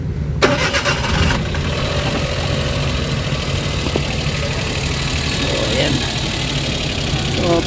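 A Suzuki Wagon with a misfire, low power and engine vibration cranks briefly, catches, and settles into a steady, rough idle close by while someone speaks over it.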